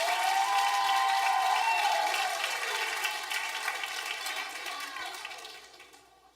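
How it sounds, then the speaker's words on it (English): An audience at an elementary school end-of-year promotion ceremony applauds steadily, a dense wash of clapping with some cheers that gradually thins and fades out. "Give her another hand clap while she walks up this way."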